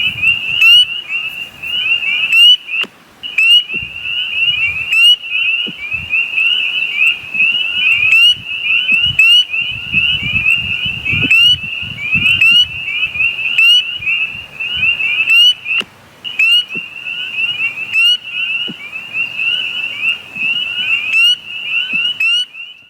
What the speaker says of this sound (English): I'm going to enjoy listening to the spring peepers today.